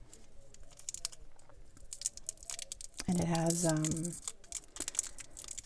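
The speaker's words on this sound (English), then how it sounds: "it has the paper wrapper on the outside and then this plastic cellophane wrapper on the inside" Close crinkling and rustling of a paper outer wrapper and plastic cellophane inner wrapper on watercolor supplies as it is handled, while a person speaks briefly partway through.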